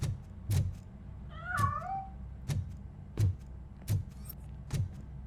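A cat escaping from a piano gives one short wavering meow, moderately close, amid a series of regular dull thumps and knocks.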